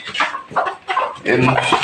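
A broody hen clucks in short bursts of low, throaty calls, close and fairly loud, with brief pauses between them.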